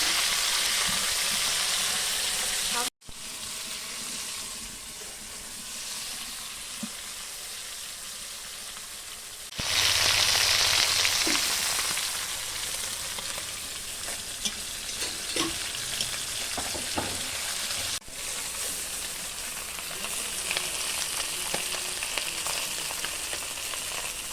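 Puti fish fry in a pan with a loud, steady sizzle and crackle, broken by brief stirring and pauses, with no voices.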